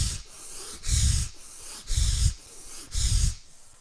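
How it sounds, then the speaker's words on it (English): Forceful yoga breathing during a morning hatha session, with three loud, rhythmic breath bursts about a second apart, each a sharp nasal rush of air with soft quieter pauses between, close and alone. "Forceful inhales and exhales begin."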